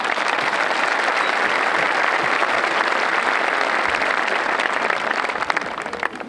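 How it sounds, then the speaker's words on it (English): Enthusiastic audience applause for graduates' families at a high school graduation ceremony, a loud sustained crowd of clapping hands that tapers slightly near the end. "A round of applause for them, please."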